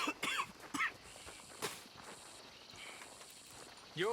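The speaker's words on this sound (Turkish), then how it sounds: "Kan öksürüyoruz" A character in the Red Dead Redemption 2 video game coughs several times in short, harsh bursts, close and fairly loud over quiet outdoor game ambience.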